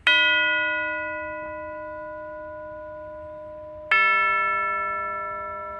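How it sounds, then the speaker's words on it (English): Two tubular chimes are struck with a hard mallet one after another, each ringing out bright and metallic with a long, slowly fading sustain. "squared up to the chimes, and then just strike it gently."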